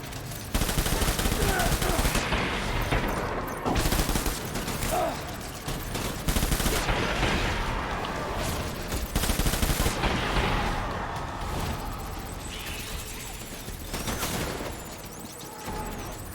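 Rapid assault rifle fire in the video game Death Stranding, loud bursts and sustained volleys with brief pauses, a voice talking in places.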